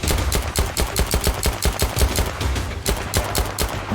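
Rapid semi-automatic L85 rifle fire in the Zero Caliber video game, a steady stream of loud, close, sharp shots at an even fast pace lasting throughout.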